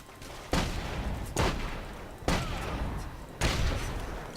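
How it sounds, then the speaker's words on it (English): Gunfire in the WWII video game The Saboteur: four heavy, booming shots spaced about a second apart, each with a sharp attack and a long rumbling decay, loud and close, with no talk. "Who's this shooting at me?"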